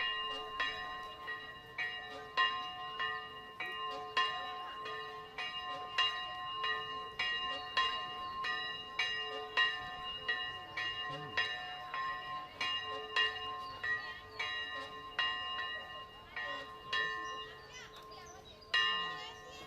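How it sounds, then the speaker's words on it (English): A church bell in Paphos, Cyprus, rings for a Sunday Episcopal service with steady, evenly spaced strokes at a moderate distance, while children's voices and play sound faintly in the background. "that bell ringing is for an actual church service"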